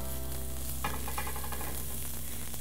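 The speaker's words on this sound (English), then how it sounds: "You can hear just a light sizzle" A steady, light sizzle of cabbage sautéing in a frying pan, with a few soft stirring clatters partway through; no talking.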